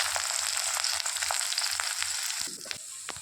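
Green chillies and onion fry in hot oil with tempering spices, a bright continuous sizzle close up, briefly disturbed near the end by a stirring clatter.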